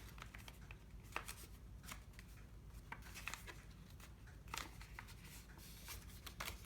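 Paper being folded down its center crease, close-up soft crinkles and scraping rustles in irregular bursts, faint and alone with no talk.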